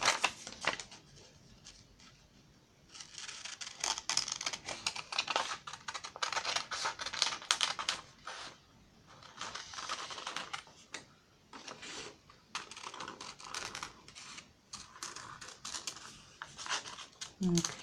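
Scissors cutting out a paper black cat bookmark, giving repeated close snips and crisp paper rustles in uneven bursts with short pauses between.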